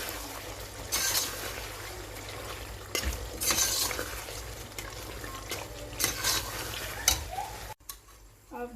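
Kasuri methi and garam masala are stirred in a hot pan, with a steady close sizzle and repeated scraping bursts of the spoon against the pan before an abrupt quieter end.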